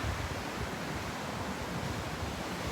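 Shoreline waves make an unbroken, even hiss and rumble, steady in level throughout, close and moderately loud with no talk.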